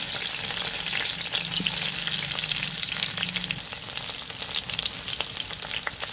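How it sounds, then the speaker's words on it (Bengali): Potatoes fry in hot oil for chicken biryani, a loud, dense, continuous close sizzle with crackling pops, and a brief low hum in the first half. "এরপর আমি আলুগুলো ভেজে নেব। ওই একই তেলে আমি ভেজে নেব।"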